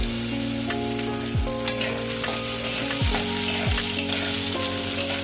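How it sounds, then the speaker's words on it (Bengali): Onions frying in hot oil in a wok: a loud, unbroken crackling sizzle heard close up, with faint stirring strokes and a steady tonal hum beneath, no voices. "পেঁয়াজটা ভাজা হবে।"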